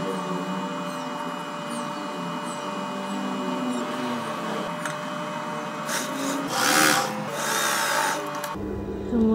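A sewing machine stitches the sleeve seam of a nursing-friendly gamis dress, a steady mechanical whir running nearly throughout, with a brief louder burst near the end.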